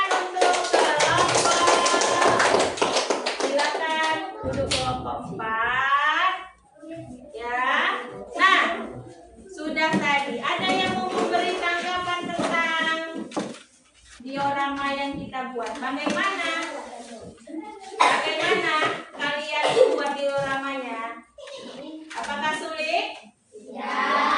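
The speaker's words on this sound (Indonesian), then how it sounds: "Kasih dulu tepuk tangan" A group of schoolchildren clap hands together in a classroom after a lesson on food chains, short bursts of applause alternating with someone talking and children speaking.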